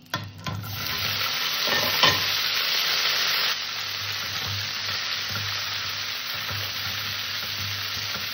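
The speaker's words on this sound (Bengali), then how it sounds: "ফুলকপিগুলো ভেজে নেব।" Cut cauliflower florets sizzle and spatter steadily in hot oil in a pan, a loud continuous frying hiss with a few stirring clatters near the start.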